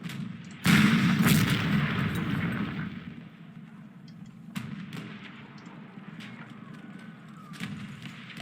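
Artillery fire in the Panzer Corps strategy game, one loud boom followed by a long rumbling decay, then a few smaller distant thuds.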